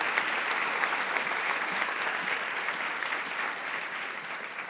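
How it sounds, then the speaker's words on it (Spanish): A church congregation applauds during a Sunday sermon, steady, even clapping filling the room at moderate volume with no speech over it. "Le damos un aplauso a Dios por ser tan bueno y bondadoso con nosotros"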